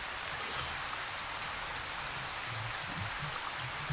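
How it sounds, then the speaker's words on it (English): Heavy rain in a video game hisses as a steady, broad wash, faint and continuous, with no talking over it. "this loud, heavy rain, they're not even gonna hear the jetpack."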